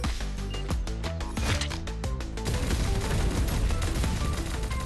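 Rapid automatic weapon fire in Radiant Nexus with rapid fire and infinite ammo. Dense, evenly spaced mechanical shots rattle at a steady fast rhythm over continuous loud game music and effects.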